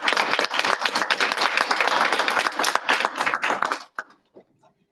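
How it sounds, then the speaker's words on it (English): A board meeting audience gives the honorees a dense round of applause that holds steady for about four seconds and then stops abruptly, leaving a few scattered claps. "let's have one big round of applause for all our honorees."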